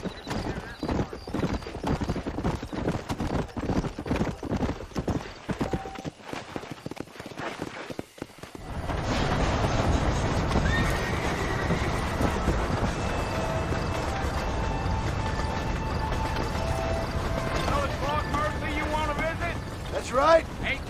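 Horses trot in Red Dead Redemption with steady clip-clop hoofbeats and an occasional whinny, heard under a voice, with wider background sound swelling midway.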